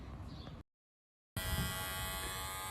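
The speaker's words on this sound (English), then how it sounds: "Get yourself a good set of clippers" Electric hair clippers buzz with a steady bright drone, cut off by a short silence and then resumed louder and close up.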